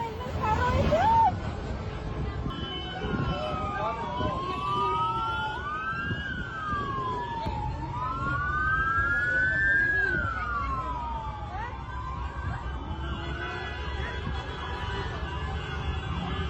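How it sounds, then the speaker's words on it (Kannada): An alert siren in Kuwait wails in slow rising and falling sweeps, heard at a distance over a low murmur of background noise and faint voices. "ಹಂಗಾಗಿ ಸೈರನ್ ಶಬ್ದ ಕೂಡ ಕುವೈತ್ನಲ್ಲಿ ಕೇಳೋದಕ್ಕೆ ಸಿಗ್ತಾ ಇದೆ."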